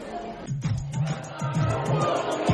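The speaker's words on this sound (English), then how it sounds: "A big crowd here at the Wade has had a lot to be happy about in this frame." Crowd at a Duluth Huskies baseball game at Wade Stadium, a loud, steady wash of murmuring fans close by, with a voice rising and falling over the noise.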